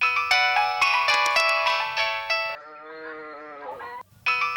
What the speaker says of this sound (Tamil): போன் அடிக்குதுப்பா